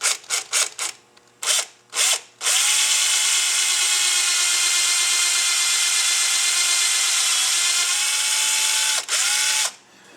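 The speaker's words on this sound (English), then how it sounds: "I like to use a 9/32 drill bit right in the center" A power drill with a 9/32 bit grinds steadily into a hardened steel pin after a few short starting bursts, a loud continuous whine that dips briefly once near the end.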